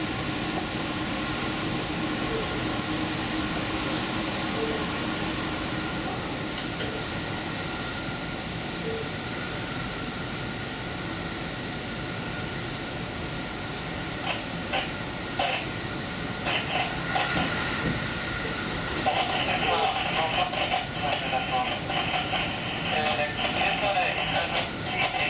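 A limited express Manpuku Sarobetsu train runs toward Sapporo, giving a steady, continuous rumble of wheels and motors that holds throughout and grows slightly louder and busier near the end.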